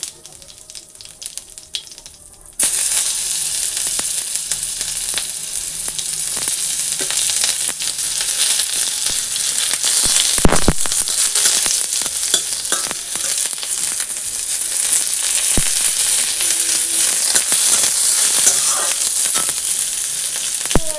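Dry red chilli, black cumin and chopped onion hit hot oil with a sudden loud, dense sizzle that stays strong and steady, with a few sharper crackles as the tempering fries.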